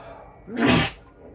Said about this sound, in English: I feel like I popped a blood vessel with that sneeze